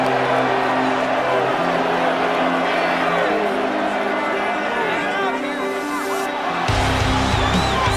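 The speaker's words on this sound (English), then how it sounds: "So several thousand 12th men and women cheering as the Seahawks win at home" Several thousand home fans in a Seattle Seahawks stadium cheering as the team wins a Friday night game against the Raiders: a dense, steady roar of crowd noise throughout, with a commentator talking over it.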